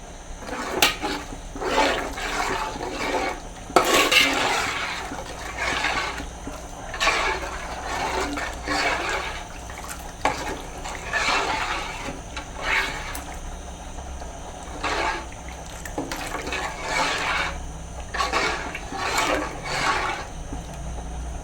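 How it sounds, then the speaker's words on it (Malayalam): Boiling water pours and splashes into a pan of boiled vinegar for Lubikka pickle in repeated gushes over a low steady hum, with brief pauses between pours. "ഇനി നമ്മൾ ഇതിനകത്തോട്ട് ചേർക്കാൻ പോകുന്നത് തിളച്ച വെള്ളമാണ്"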